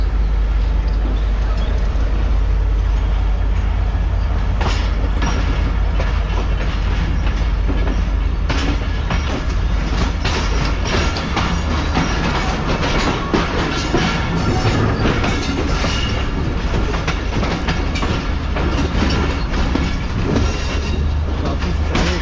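Train hauled by a GMU locomotive rolling on rails in Karachi, a loud, continuous rumble with rattling clatter of wagons and wheels, steady throughout and heard from close by, no voices.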